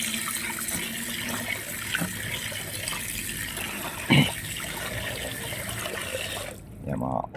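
Tap water runs steadily into a sink while raw chicken is washed in a home kitchen, with a brief splash partway through before the flow stops near the end.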